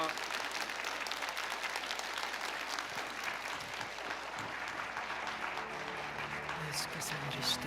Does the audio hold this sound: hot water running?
no